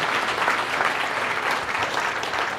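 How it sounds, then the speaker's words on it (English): Steady applause from a crowd fills the whole moment, dense and even clapping without pauses. "please give this guy a round of applause, please"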